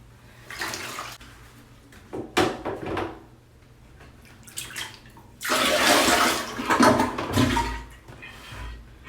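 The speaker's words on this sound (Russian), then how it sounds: "Видите, как вода сразу уходит и не набирается в чашу после слива с ведра." Water poured from a bucket into a toilet bowl flushes it in a loud rushing surge that drains away quickly, after a few earlier splashes and knocks. No one talks.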